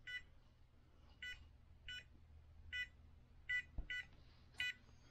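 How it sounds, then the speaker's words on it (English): Seven short electronic beeps from a SecuRAM SafeLogic Xtreme safe keypad lock sound at uneven intervals, crisp and close, with a faint click partway through and quiet room noise between them. "So you get one beep"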